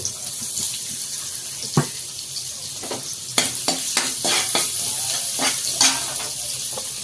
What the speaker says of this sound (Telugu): నూనె హీట్ ఎక్కిందండి పచ్చిమిరకాయలు అల్లం ముక్కలు